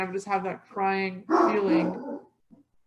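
Dogs bark and yip close by in a short burst, partly overlapping with a voice.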